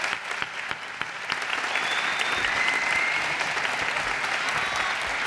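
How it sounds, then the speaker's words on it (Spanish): An audience applauds at a traditional costume festival in Zamora, honoring a folk group from Tiedra, Valladolid. Steady, dense clapping runs throughout, swelling slightly midway, with faint crowd murmur and no speech. "Un gran aplauso para todas vosotras."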